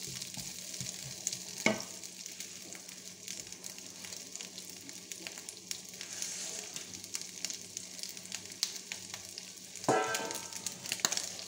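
Beef browning for boeuf bourguignon sizzles and spits steadily in a hot pan, with occasional louder stirring scrapes and crackles over a constant frying hiss, no talk.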